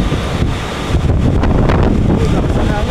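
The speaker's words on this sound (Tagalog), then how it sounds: "Lakas ng hangin." Strong wind blasts continuously against the microphone, a dense rumbling rush with faint voices buried underneath.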